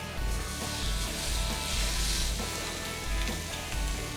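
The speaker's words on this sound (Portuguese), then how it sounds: "E vou aproveitando para dourar as laterais do medalhão de filé" A filet mignon medallion sizzles steadily as it browns in a hot pan, a loud, continuous crackle with gentle swells and no voices.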